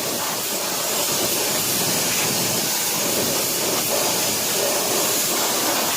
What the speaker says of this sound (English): Power spray the brakes as well.